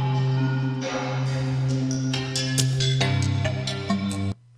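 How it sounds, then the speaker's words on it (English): A sample in Cubase auditioned with a reverb effect: a sustained tonal, layered sound with bright attacks and a lingering wash that cuts off abruptly at the end, loud and alone. "I can audition my reverb."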